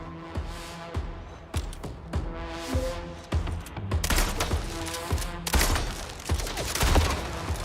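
Rapid gunfire from a hard-kicking gun in a first-person shooter, sharp repeated shots in uneven bursts, getting denser and louder toward the end, with no speech over them.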